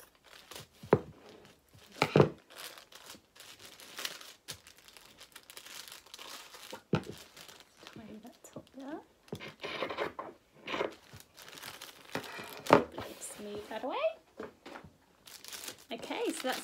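Fabric pieces being cut out for sewing a tailor's ham, with crinkly rustling of cloth and paper pattern and intermittent snips, fairly faint and close, under a person talking.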